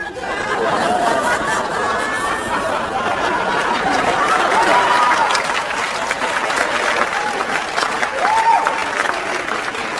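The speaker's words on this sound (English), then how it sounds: "An applause break over my infidelity." Applause breaks out from a comedy club audience during Mitch Hedberg's stand-up set, steady clapping mixed with chatter and scattered chuckles that carries on evenly for the whole stretch.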